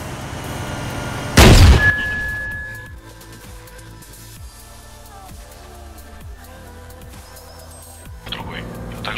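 Gunfire in the video game ArmA 3 opens with one loud, sharp boom, followed by fainter distant shots and rumbling beneath quiet talk.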